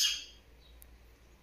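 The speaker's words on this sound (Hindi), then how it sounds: "यहाँ पे चिड़िया आ गई है जो मुझे बोलने ही नहीं दे रही है।" A bird chirps just outside a house, a bright burst at the very start and then fading into quiet room tone, with one faint high call in the middle.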